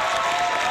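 Steady, dense applause with cheering from a concert crowd greeting a country singer, a close, continuous wash of clapping with no gaps.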